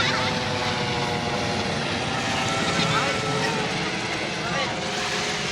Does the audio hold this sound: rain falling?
no